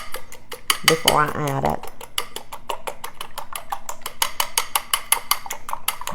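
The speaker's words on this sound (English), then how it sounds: "I'm going to take a fork and beat our egg just like that" Fork rapidly beating an egg in a bowl, a dense run of quick, even clinks and taps that continues steadily throughout, with a short burst of speech over it early on.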